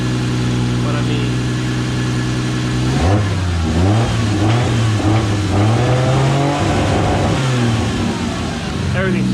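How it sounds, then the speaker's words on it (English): A Lexus IS300 engine, running on a Link ECU just after its first start, revs up loudly and sharply from idle several times, its pitch rising and falling close by, with a person talking over it. "The car sounds amazing. It's firing off all cylinders."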